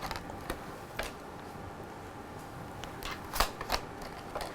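Tarot cards being shuffled by hand, a quiet papery riffling with a few soft snaps and sharper flicks scattered across a few seconds, close and faint.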